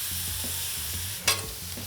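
Cheesesteak beef sizzles on a Traeger griddle with a steady, close hiss, underpinned by a low hum and broken by light scraping strokes and one sharp spatula clatter.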